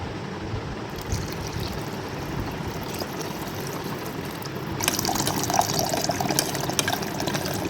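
Water pours into a pot of masala khichdi being cooked in a hostel, a steady close rushing splash that grows louder partway through and continues to the end, no talking heard.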